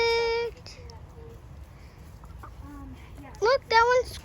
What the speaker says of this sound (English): Chickens love it.